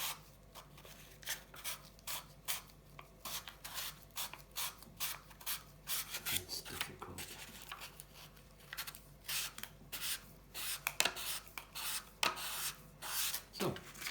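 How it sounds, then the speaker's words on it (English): Hand sanding with sandpaper on a part of a 1984 Honda C70 street cub motorcycle build, a steady series of short, close rasping strokes in an uneven rhythm, with a few brief spoken words. "So, sanding done."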